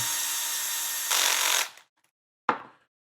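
A power drill drives screws during a bearing build, whirring steadily for about a second and a half before rising in pitch and winding down, then giving one short burst after a pause.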